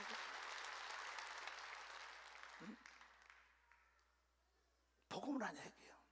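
A church congregation breaks into applause during a sermon, a faint wash of clapping that dies away, followed by a short burst of the preacher's voice.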